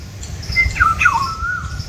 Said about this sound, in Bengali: চতুর্দিকে পাখির ডাক